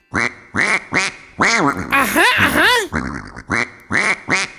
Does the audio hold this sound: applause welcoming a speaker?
no